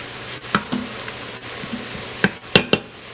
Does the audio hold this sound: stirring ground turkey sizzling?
yes